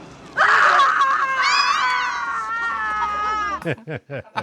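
Several women in a film scene let out a loud, shrill scream that holds for a few seconds, then breaks into short gasping cries.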